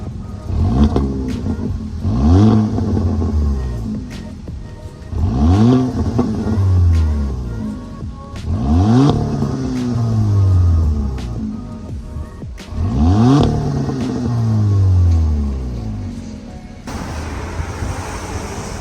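A Kia Forte GT fitted with an MBRP axle-back exhaust revs in four repeated rising-and-falling sweeps, loud and close, each blip climbing sharply and then settling back to idle.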